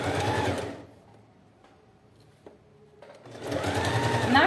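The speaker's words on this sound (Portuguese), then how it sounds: "vou costurar com o pé" A sewing machine stitches a clear plastic pouch with a presser foot, running loud and steady in two close bursts at the start and end, with a quiet pause between them.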